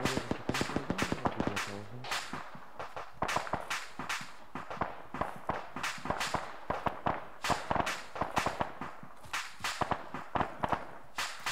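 Rapid bursts of gunfire from ArmA 3 military simulation combat crack out in dense, irregular volleys across the whole stretch, sharp and loud, with no talking.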